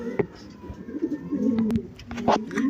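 Pigeons coo repeatedly at close range among a group of white grizzle fancy pigeons, several soft throaty calls overlapping with faint chirps and rustling, no talk over them.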